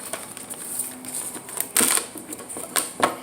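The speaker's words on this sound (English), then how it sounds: "I've been shuffling this deck when I was premeditating" A deck of cards is shuffled close up, giving brisk papery riffles and snaps in quick bursts with a couple of louder flurries, and no talking.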